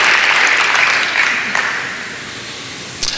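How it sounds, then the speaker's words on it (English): An audience at a youth basketball skills clinic applauds demonstrators with broad, sustained clapping that starts full and gradually thins and fades, with a couple of sharper claps near the end. "So maybe just a little round of applause to thank them for demonstrating"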